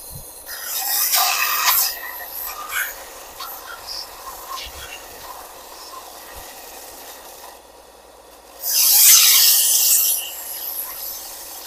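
A rasp shapes the rounded bottom of a hickory self bow in two loud bursts of coarse rubbing strokes separated by quieter, sparser scraping, close up, with no talking.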